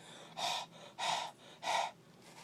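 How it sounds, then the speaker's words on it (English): A person breathes warm air in three long, steady exhales onto a mantis that had nearly frozen. Each close breath swells and fades, with short quiet pauses between them and no talking. "I started breathing hot air on her like this."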